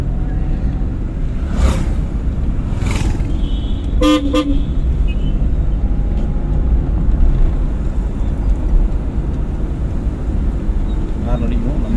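A car honks several short toots during a driving lesson, close and clear over steady road and engine noise, with a voice speaking in the car.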